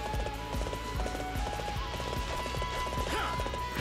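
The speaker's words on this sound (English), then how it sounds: "I'm on a horse." A horse gallops in Dynasty Warriors 8, hooves clip-clopping in a fast, steady rhythm under a dense, continuous wash of battle noise and music.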